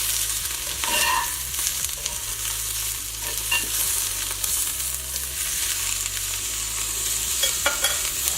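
Chicken frying in a pan for a honey chicken dish, sizzling loudly and continuously up close with repeated scraping and stirring as the pieces are flipped, no talking.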